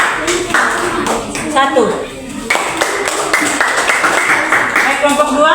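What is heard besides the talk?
classroom applause for a group of students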